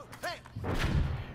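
Explosions in a shooter video game: a sharp whooshing crack, then a heavier rumbling blast that swells and lingers, heard close and loud with a voice briefly in the mix.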